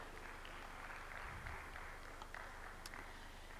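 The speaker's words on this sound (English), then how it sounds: "Can we please give him a round of applause?" Audience applause at a panel event, faint and distant, a soft steady patter of clapping filling the whole moment.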